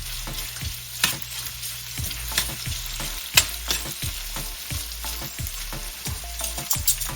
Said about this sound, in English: Now that we've got the beef in there, searing a bit